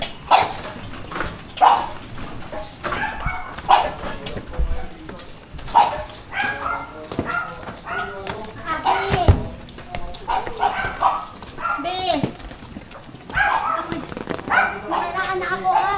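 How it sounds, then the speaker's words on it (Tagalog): A dog yips, barks and whimpers in repeated short bursts close by, mixed in with people talking in Filipino throughout. "Oh, ang ganda ng aso. Kaninong aso yan,"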